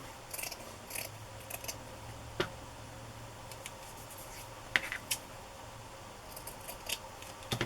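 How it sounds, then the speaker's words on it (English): Scissors cut through fabric in sparse, sharp snips and clicks, fairly faint against a quiet room hiss, with no talking. "I will cut it this time because I didn't like the way it stretched and pulled the fabric when I tore it."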